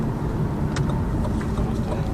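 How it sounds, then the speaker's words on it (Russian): A Lada Vesta Cross engine runs at a steady idle with a constant low hum and a faint whine, close and unchanging, with a few small clicks over it. "Так работает двигатель наш любимый."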